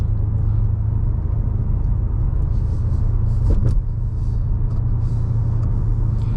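Interior of a Nardo Grey 2021 BMW M5 Competition F90 on a short drive, with a steady low engine and road rumble throughout and a brief swell in the middle; no one talks.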